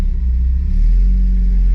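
A Mazda Miata engine rumbles close by, low and steady, then swells slightly as the car pulls away, a continuous deep drone with no talking.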